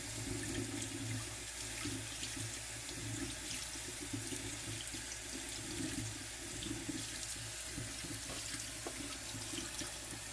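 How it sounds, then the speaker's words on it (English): Tap water runs steadily into a sink over lentils held in a colander, a constant close splashing rush that carries on without pause and with no voices. "But the water is starting to run clear, and I'm going to go on this for another 10 seconds."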